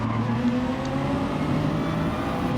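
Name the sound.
car engine sounds in video game Gran Turismo Sport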